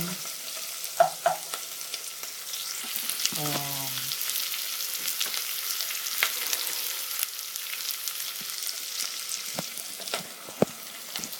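Pork for sweet and sour pork sizzles steadily in a pan, with a brief tonal squeak early on and scattered utensil taps and scrapes over the continuous frying hiss.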